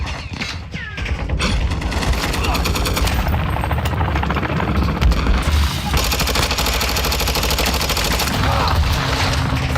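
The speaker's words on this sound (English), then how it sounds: "I'm taking fire!" Gunfire in Call of Duty DMZ, with dense, sustained automatic bursts roaring loud and continuous, layered with mechanical clatter throughout.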